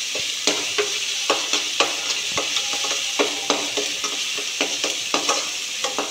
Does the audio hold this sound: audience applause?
no